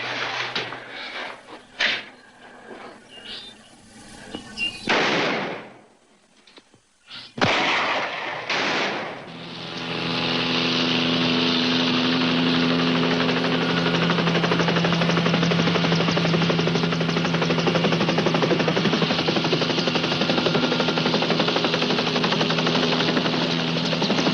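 A helicopter closes in: a few scattered knocks and bangs give way after a brief lull to a loud, continuous rotor and turbine roar that holds steady and near.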